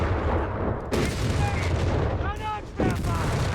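Mortar and gunfire in the real-time strategy game Company of Heroes 3: heavy blasts and crackling shots land in quick bursts with a few whistling streaks, heard close and loud under a commentator's voice.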